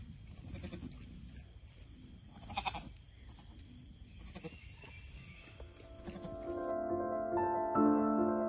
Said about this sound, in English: let's go head on up here and let's check in on our baby goat, Joe.